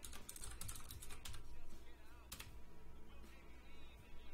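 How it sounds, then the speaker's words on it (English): A password being typed on a computer keyboard during a Linux setup, quick close clusters of key clicks in short bursts, then quieter scattered taps, with faint background noise and a voice briefly present. "we're gonna type in our password"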